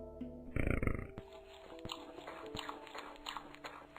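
A creature in Rusty Lake Hotel eats its food with a loud burst of chomping and crunching, then softer wet chewing clicks continue over faint background music.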